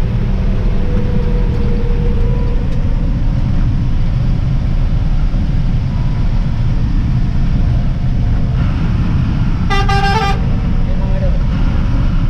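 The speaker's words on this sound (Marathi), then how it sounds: "हॉर्न तर कंपल्सरी मारला पाहिजे प्रत्येक टर्निंगला" A vehicle horn gives one brief, nearby honk on a winding hill road between Mandangad and Bankot, over a continuous rumble of engine and road noise.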